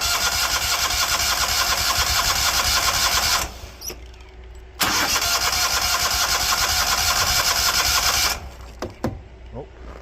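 Small engine starts and runs loud and near with a buzzing, rattly tone, cuts out briefly, restarts, then dies away after the throttle is adjusted.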